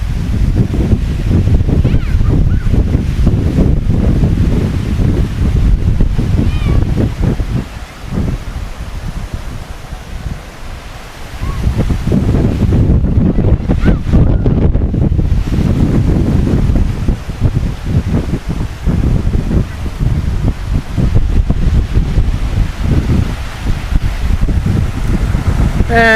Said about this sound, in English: I don't know if you guys can hear me from the wind